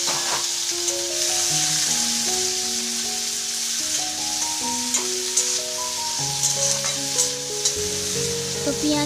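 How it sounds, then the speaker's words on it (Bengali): Fish frying in a little oil gives a steady, close sizzle that runs throughout, with scattered pops and spatters over a constant hiss, and no talking. "অল্প তেলেই ভাজছি"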